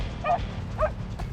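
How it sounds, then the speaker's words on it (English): Hunting dogs from a trained pack give two distinct barks, a short pause between them, during a wild boar hunt outdoors, moderately near over a steady low rumble of background noise. "Jack releases a pack of well-trained hunting dogs"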